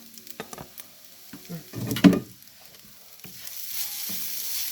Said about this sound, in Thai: ผัดนิดเดียวถ้าเขาได้ความร้อนแค่นั้นเองค่ะ